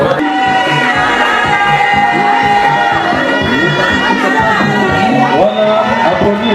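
A crowd at a political party rally in Kinshasa cheers and shouts loudly and continuously, with excited voices and whoops layered over one another and a constant roar.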